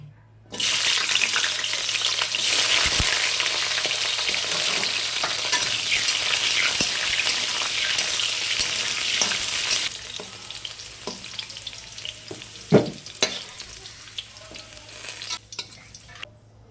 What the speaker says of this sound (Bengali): সেই সবজিগুলো সবগুলোকে একটা একটা করে ভেজে নেব আমি তেলে